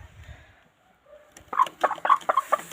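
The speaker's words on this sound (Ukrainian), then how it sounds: "Так, ось курочка" A hen clucking in a farmyard, a short run of loud, close clucks in the second half after near-silence, with a faint low rumble at the start.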